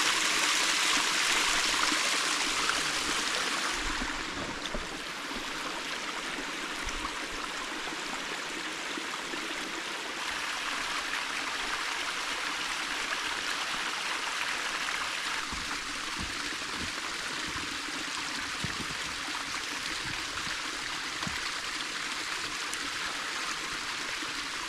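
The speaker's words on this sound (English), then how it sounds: "This is a beautiful creek." A snowy creek flows steadily, a continuous close rush and trickle of water running the whole time with no voices over it.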